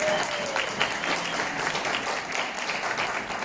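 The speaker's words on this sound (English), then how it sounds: "Round of applause for Shantae." A comic convention panel audience at Long Beach Comic Expo 2020 claps steadily in sustained applause, a dense even patter that fills the whole stretch.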